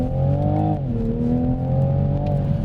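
A 2020 Toyota GR Supra engine revving hard while driven fast, a loud harmonic drone that dips in pitch then climbs steadily again, close and continuous with no voices.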